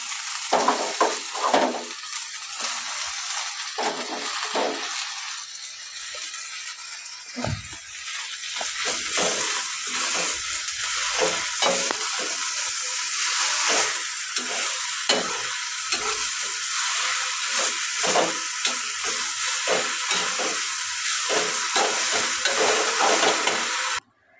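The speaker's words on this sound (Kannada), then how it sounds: "ಎಣ್ಣೆಯಲ್ಲಿ ಹುರಿದು ಬಿಡುತ್ತೆ ನೋಡಿ ಇವಾಗ ಕಲರ್ ಚೇಂಜ್ ಆಗ್ತಾಯಿದೆ ಅದ್ರದ್ದು ಇವಾಗ ಸೊಪ್ಪು ಹಾಕ್ತೀನಿ" Leafy greens frying in hot oil in a home kitchen pan, a steady loud sizzle and hiss with occasional stirring scrapes, close and continuous without speech.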